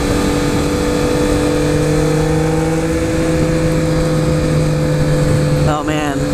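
Triumph Speed Triple motorcycle engine droning steadily while riding on a winding road, loud and close with a constant low hum, wind rush over it, and a brief pitch shift near the end.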